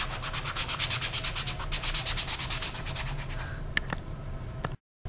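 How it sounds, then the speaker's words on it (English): The rough surface of a notebook is scraped in a continuous, close, scratchy rubbing with a fast grainy texture. It holds steady for several seconds, then stops abruptly. "You just scrape the surface."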